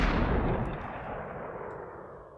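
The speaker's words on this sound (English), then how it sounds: "You got gunshot." Gunshot sample triggered from a Serato DJ sampler, a loud broadband boom that decays with a long rumbling, noisy tail over a couple of seconds, no voices present.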